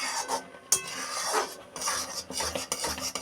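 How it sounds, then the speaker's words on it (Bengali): A spatula scrapes and stirs vermicelli in a wok over a low-to-medium gas flame, giving repeated close, gritty metallic scraping strokes with a sharp clink early on and no talking. "নাড়া দিতে হবে, নাহলে কড়াইতে নিচে বসে যাওয়ার সম্ভাবনা থাকে।"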